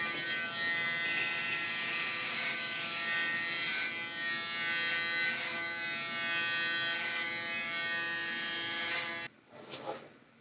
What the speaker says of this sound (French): C'est cette zone là qu'on va venir raser.